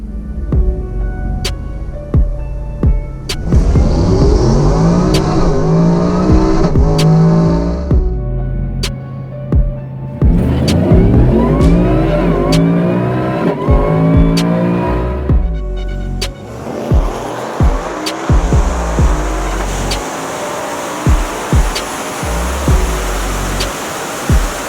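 A supercharged 2018 Whipple F-150 pickup and an 1100-horsepower Livernois Jeep TrackHawk race: loud, close engines rev hard in repeated rising and falling bursts, with a deep rumble and brief pauses between runs.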